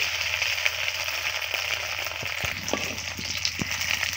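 Fish and potato kofta fry in a pan with a steady, close crackling sizzle, a few faint clicks and knocks over the top.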